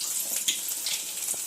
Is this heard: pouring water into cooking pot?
yes